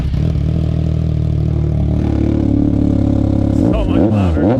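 A 10th gen Honda Civic Si engine runs with its exhaust removed, a loud, raw droning rumble up close that swells with sharp revs near the end.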